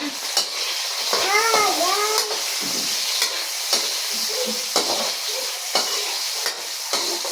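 Tomatoes dropped into a hot pan while sautéing vegetables, with a loud steady sizzle and stirring scrapes up close; a cat meows briefly partway through.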